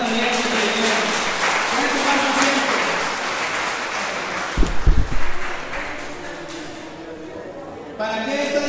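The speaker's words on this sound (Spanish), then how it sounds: "Dense un aplauso a los que están también." Applause from a congregation at an urban preaching gathering, a loud wash of clapping that fades out midway, followed by a few thumps and then a voice speaking.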